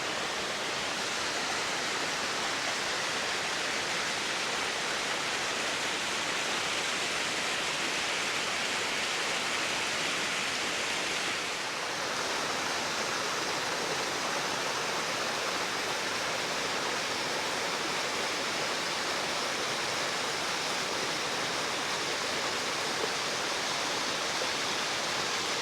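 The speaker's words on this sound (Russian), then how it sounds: "И главное, и справа, и слева везде струи воды." Jets of water pour steadily at the Algar waterfalls in Spain, a dense, continuous rushing roar close by with no pauses and no voices.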